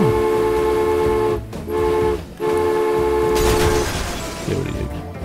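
A train in Transport Fever 2 sounds a loud, sustained, chord-like horn, broken twice by brief gaps, before fading into a rougher rumbling hiss.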